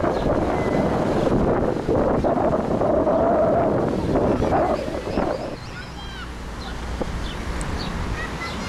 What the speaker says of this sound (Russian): Сейчас ветерочек с моря дует, легенький, свеженький такой.